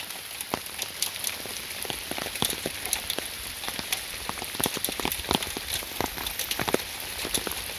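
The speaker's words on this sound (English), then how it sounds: "So now, do we always have rain like this?" Steady rain patters on surfaces beside a full ravine, with a dense hiss and scattered louder drips landing close by, continuous throughout.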